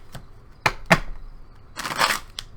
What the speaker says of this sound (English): One more real shuffle.